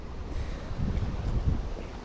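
Gusty wind buffets the microphone with low, uneven rumbling that swells and fades throughout, while fishing on the Dnieper River, with no voices.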